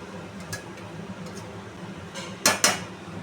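A spatula clinks and scrapes against a pan while soybean curry with spices is sautéed, two sharp metallic knocks standing out above faint background frying.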